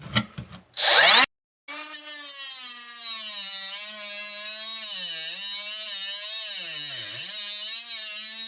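A Milwaukee power tool cuts a sink drain pipe, opening with a short harsh burst and then settling into a steady high whine that dips and wavers in pitch as the cut goes on, close and loud with no talk.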